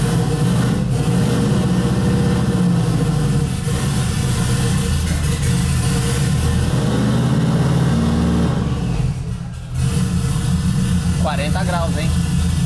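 A buggy fitted with a Subaru turbo engine runs cold on a chilly day, giving a loud, steady close-up rumble with a brief dip partway through.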